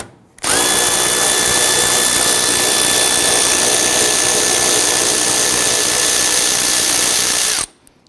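Power tool spinning a deep socket to loosen a 10mm bolt on the front bumper cover of a Dodge Charger, one loud continuous high whine lasting about seven seconds that starts and stops abruptly, no talking.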